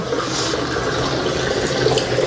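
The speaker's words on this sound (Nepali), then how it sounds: "पानी पिलाइदिनु त यार, एउटा गिलासमा क्या" Water pours steadily into a glass, a close, continuous splashing stream with no voices.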